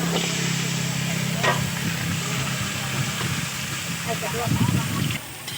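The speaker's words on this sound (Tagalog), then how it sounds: "lalagay na natin ang malunggay" Malunggay leaves stirred into chicken adobo frying in a pan, giving a steady sizzle with some scraping and rustling near the end and a low background hum throughout.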